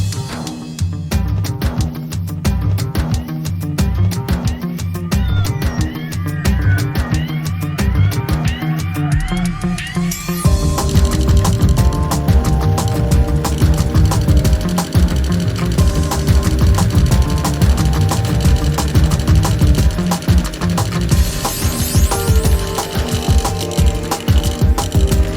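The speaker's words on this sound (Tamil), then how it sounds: "கேக் அடிக்கும் மிக்சரினால் அடிக்கப் போகின்றேன்." An electric cake mixer beats eggs and sugar with a steady, loud mechanical whir and rattle of the beaters that holds for the whole stretch and grows a little stronger partway through, with no talk.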